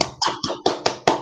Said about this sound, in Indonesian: Tepuk tangan dulu untuk Nadia. Ayo, tepuk tangan.